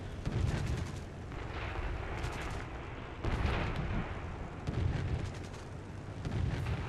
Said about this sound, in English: I get my shots lined up, and I kind of miss